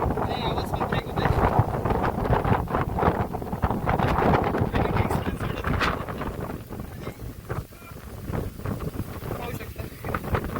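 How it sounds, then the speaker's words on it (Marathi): Strong wind buffets the microphone atop the Gorakhgad hilltop fort in the Sahyadri hills, a continuous loud rumbling gust-roar with a voice faintly talking beneath it. "हवा खूप असं स्लो होते जरा आणि आवाज पण ब्रेक होते"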